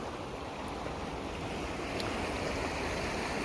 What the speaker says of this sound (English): Typical Korean stream.